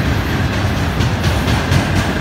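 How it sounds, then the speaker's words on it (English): Close and loud, an auto rack freight train rumbles past in a steady roar of wheels and cars with faint rhythmic clacking throughout and no voices. "And holy crap, but they've got an auto rack train."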